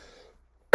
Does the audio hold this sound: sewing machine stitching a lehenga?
no